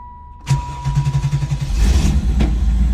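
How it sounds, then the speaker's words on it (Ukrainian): A 2004 Ford Thunderbird engine cranks and catches, then settles into a steady low idle with a brief rev near the end, close and loud. "То я розумію, машина завелась."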